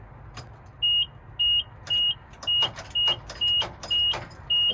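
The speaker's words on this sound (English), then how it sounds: "All I get is that little clunk, clunk, clunk. So I'm thinking the starter's bad." A bread truck with a faulty starter gives a series of short repeated clunks as the key is turned, about eight even pulses in a row, each paired with a steady electronic dash chime, close and fairly loud.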